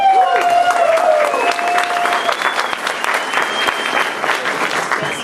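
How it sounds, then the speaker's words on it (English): A city presentation audience in Long Beach bursts into loud, sustained applause mixed with cheering and whoops, dense clapping that stays strong before easing slightly toward the end. "so y'all like to cheer."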